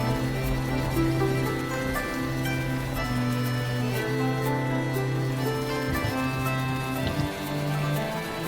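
Steady rain patters continuously, mixed with sustained droning tones like music playing underneath, at an even, fairly loud level throughout.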